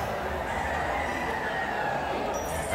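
Brood stag roosters, gamefowl including sleek straight-comb and pea-comb birds and white Kelsos, clucking and crowing nearby over a constant outdoor background noise, with no talking.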